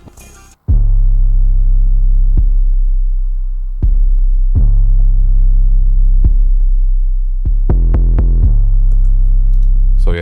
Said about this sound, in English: So here's my pattern with the 808s.